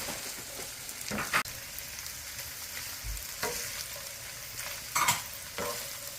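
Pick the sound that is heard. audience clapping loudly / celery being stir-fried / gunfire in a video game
celery being stir-fried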